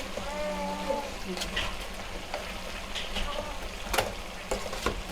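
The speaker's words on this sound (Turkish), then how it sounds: "Şimdi de hafif böyle karıştıracağım." Carrots and salt are stirred in a frying pan for Uzbek pilaf, giving a steady close sizzle with scraping utensil strokes against the pan throughout, and faint tones in the background.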